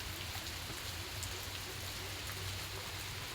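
Steady rain pours down on a durian orchard in an even, hissing wash, with a low hum underneath and no voices.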